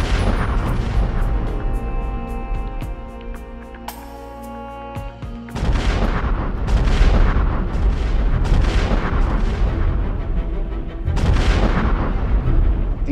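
Mount Etna erupts in Italy with loud, continuous rumbling booms and repeated explosive blasts, layered over a dense roar that shifts midway into heavier, rougher detonations.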